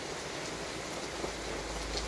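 Steady rain falling in a village setting, a constant broadband hiss of drops with faint scattered patters, fairly quiet and unbroken, with no voices.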